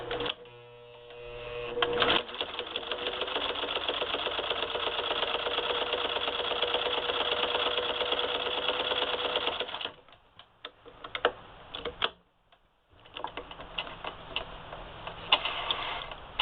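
Singer 15-91 sewing machine running an antique automatic ZigZagger attachment for a narrow zigzag stitch, a steady rapid mechanical whir and clatter for about eight seconds, then stopping, with brief bursts of stitching after a pause.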